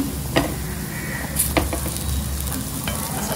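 Food sizzles and fries in a pan as it is flipped, a continuous crackling hiss with a few sharp scraping and clinking spikes from the turning, close and alone without speech.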